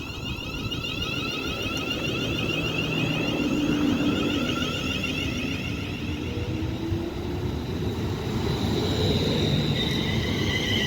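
A Class 350 electric multiple unit departs Wolverton station on the West Coast Main Line, a loud, close steady rumble of wheels and traction motors with rising whine and faint squeal as it pulls away.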